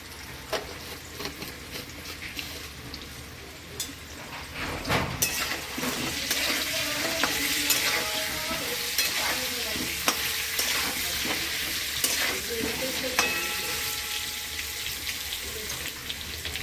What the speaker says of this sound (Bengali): লাল লাল করে ভেজে নিয়েছি আলুটা